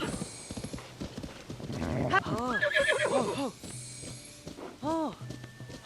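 Horse in the video game Tears of the Kingdom neighing in loud, wavering whinnies, several bursts over hoof clip-clops, with voices talking in between.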